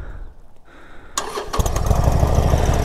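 A Harley-Davidson Forty Eight motorcycle fitted with a turbo exhaust whistle cranks and fires up after a quiet pause, then settles into a loud, steady, throbbing engine run close by.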